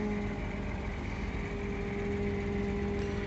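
A tractor engine idling at a sugarcane harvest, a steady low droning hum with a constant tonal whine, close and unbroken, with no talk.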